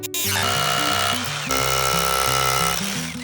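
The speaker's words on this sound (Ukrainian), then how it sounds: "беремо ось такий бордюр вагою 20 кг і просверлюємо з обох сторін" A power drill bores holes into a 20 kg concrete curb used as solar panel ballast on a flat factory roof, a loud steady whine with stepped pitch shifts and a brief restart midway.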